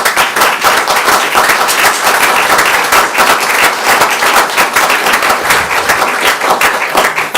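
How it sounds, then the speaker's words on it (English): Loud, close applause from a gathered group at a retirement celebration, steady dense clapping throughout with no talk over it. "I think she's entitled to a round of applause"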